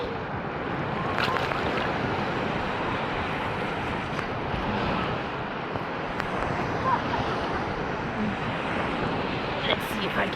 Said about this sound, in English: I'm floating on my boat.